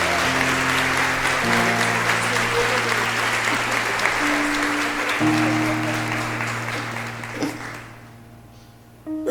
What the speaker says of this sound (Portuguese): Você pode aplaudir Jesus pela vida deles?